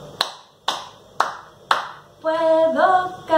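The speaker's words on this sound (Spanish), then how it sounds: "Puedo aplaudir" Four sharp, evenly spaced hand claps from children, followed by a sustained, voice-like melodic tone.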